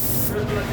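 Spray gun applying Duxone automotive paint in Toyota Yaris color code 8W8, a steady, close, loud hiss of atomized paint running unbroken through the short burst.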